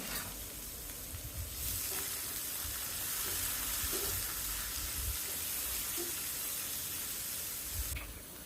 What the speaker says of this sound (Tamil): வெங்காயம், பச்சை மிளகாய், பூண்டு, தக்காளி எல்லாத்தையும் ஒன்றாவே சேர்த்து வதக்கணும்